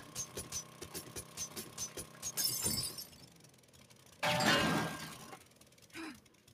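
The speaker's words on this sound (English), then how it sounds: "I'm just going to take this out just to be sure. I mean, so much broken glass." Broken glass crunches and clinks as a window frame is pulled out, in two rough bursts of scraping shards, fairly quiet, after some soft rhythmic tapping.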